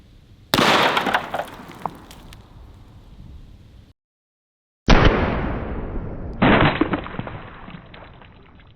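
Henry Model X .44 Magnum lever-action rifle shots striking a fluid-filled target outdoors, two sharp loud cracks with bursting impacts, each trailing off, and a cut to silence between them.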